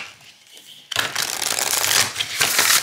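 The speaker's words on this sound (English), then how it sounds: "they do riffle shuffle well" A new, slightly stiff Black Cat Tarot deck is riffle shuffled: after a quiet start, a loud, close, crackling flutter of cards runs steadily to the end.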